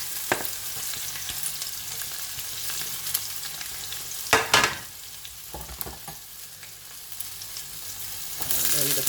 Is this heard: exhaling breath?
no